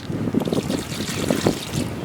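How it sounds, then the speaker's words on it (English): Water splashes and trickles into a stacked vertical planter while plants are watered from the side. The burbling wash is close and steady, with a light rushing quality and no talking. "I'm going to go ahead and water these in"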